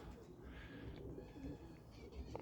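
Soft pigeon cooing in low murmuring phrases, faint and somewhat distant, with a few light chirps over a muffled background.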